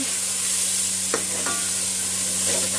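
Chilli paste masala being stirred in a pan for chicken biryani, with a soft steady sizzle and a couple of brief scraping strokes, close and alone with no talking.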